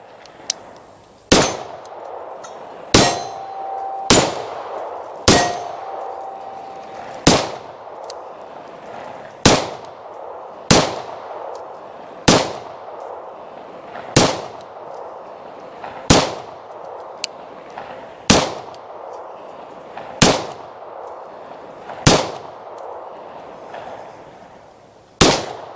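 Pistol shots from an IMI Jericho 941F ring off steel targets at an outdoor range, about fifteen sharp cracks spaced a second or two apart, each trailed by a brief metallic clang.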